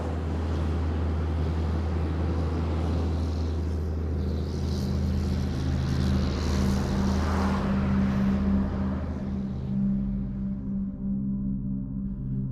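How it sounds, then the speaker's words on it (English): A low-flying crop-spraying airplane passes over a soybean field, its engine drone building and holding steady against a constant low hum before fading off toward the end. "Suddenly, there was a plane flying low over a soybean field."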